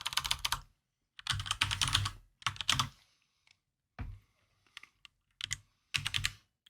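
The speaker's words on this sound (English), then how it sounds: "Go ahead and type in perspective." Typing on a computer keyboard: several quick bursts of clicking keystrokes separated by pauses, close and fairly quiet, ending in scattered single taps.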